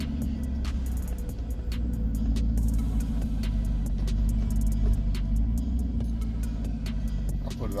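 A car with a 4L60E automatic transmission idles during a gear test, a steady low engine rumble throughout with faint clicks and a short voice at the end.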